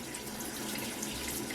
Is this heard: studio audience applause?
no